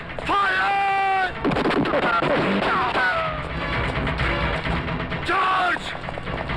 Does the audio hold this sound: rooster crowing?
no